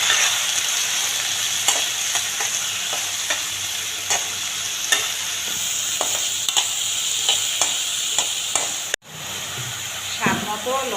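Chopped potatoes fry with onion and garlic in a pan, a loud, steady sizzle broken by repeated scrapes and stirs, with a brief cut near the end before the frying resumes.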